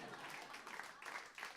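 Audience applause at a comedy roast, a steady wash of clapping from a crowd, moderately faint and continuous with slight swells.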